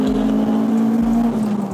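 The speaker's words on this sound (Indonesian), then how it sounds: "knalpot pakai Amios, header Toda ya kan? Toda betul. Cobain ya. Kita coba gas dikit." A Honda Civic Type R engine with an Amios exhaust and Toda header idles and blips lightly, a steady low drone rising briefly near the start and again around the middle, close and fairly loud, with no talking.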